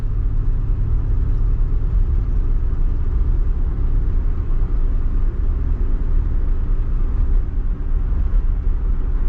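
A 1959 Chevy cruising on the road, its engine giving a loud, deep, continuous low rumble heard from inside the car, steady throughout with no talking.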